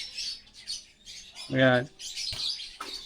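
Small birds at a bird display chirp and tweet in quick high bursts, with one louder squawk in the middle, while someone speaks briefly nearby.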